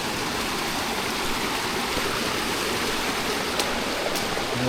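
Steady, loud rush of a mountain waterfall and fast-flowing stream at a Phu Ta Cho trail descent, a continuous broadband roar with no voices, filling the whole stretch evenly.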